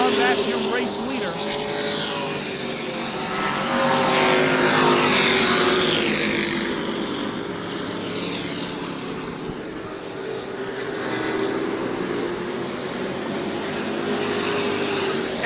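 Sportsman division race cars roar down the front straightaway out of turn four at New Smyrna Speedway, a loud continuous engine drone rising and fading with passing cars under an announcer's commentary.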